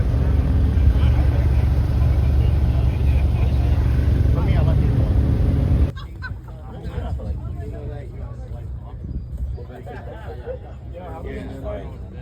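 A car engine revs loudly at a car show, with a buzzy, motorbike-like rasp for about six seconds. Then it drops to a quieter background while people chatter and laugh nearby.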